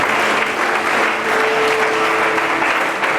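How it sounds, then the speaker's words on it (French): A church congregation breaks into loud, sustained applause, a dense wash of clapping that holds steady for the whole stretch with no voices standing out. "We can clap for that."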